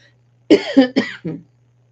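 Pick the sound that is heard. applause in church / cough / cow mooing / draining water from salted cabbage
cough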